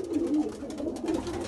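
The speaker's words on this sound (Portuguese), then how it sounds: "Ô João, você já tá treinando esse pombo, João?" Racing pigeons coo in a loft, a run of soft, throaty, rolling calls repeating close by with no talk over them.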